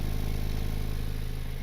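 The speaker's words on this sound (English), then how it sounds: "It's not a huge exhaust leak, but it's farting all over the place." An engine with an exhaust leak and a custom straight-pipe muffler delete idles up close, a steady rapid pulsing rumble laced with a constant breathy hiss and no talking.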